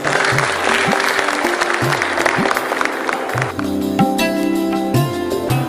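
Audience applause at a Hindi literary festival held by a writers' guild, welcoming a doctor to the stage: dense, steady clapping from a crowd, fairly loud throughout, with tonal music-like sounds entering partway through.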